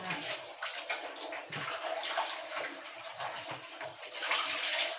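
Water running steadily into a basin in a bathroom, a continuous broadband rush with faint gurgles, fairly close and alone without talk.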